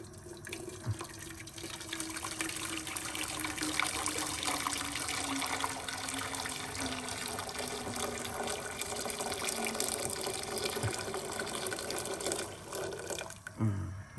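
Boiled water being poured into a pot while cooking chicken sinigang, a continuous close splashing gush of liquid that ends with a few clunks.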